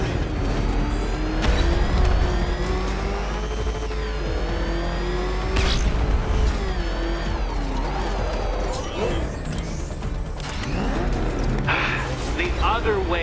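Batmobile engine in Batman: Arkham Knight, a heavy motor surging and revving with rising pitch sweeps and a few thuds, running continuously under a voice speaking throughout.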